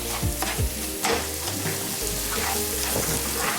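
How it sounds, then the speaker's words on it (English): Onion, garlic, bay leaf, thyme, cinnamon stick and cardamom being stirred as they fry in a pot for chicken curry, with a steady close sizzle and a few scraping spoon strokes. "Keep on stirring your onion, your garlic, your bay leaf, your thyme, your cinnamon stick, and your cardamom together"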